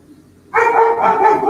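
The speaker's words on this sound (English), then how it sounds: "my dog." A dog lets out one sudden, loud, drawn-out bark close by, breaking an otherwise quiet room and holding for about a second.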